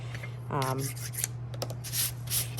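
Wooden needle tool rubbing dried clay off a rolling pin in a pottery class, heard as soft, close scraping strokes in short bursts over a steady low hum, with a brief voiced sound early on.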